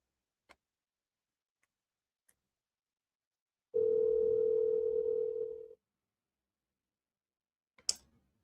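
A telephone line gives one steady tone lasting about two seconds while a number is being called back, with a few faint clicks before and a sharp click after, in an otherwise quiet room.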